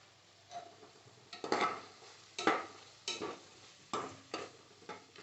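Tomatoes and sambar powder sautéed in oil, stirred with a ladle in a pot: several separate scraping stirs, spaced irregularly, over a faint background sizzle.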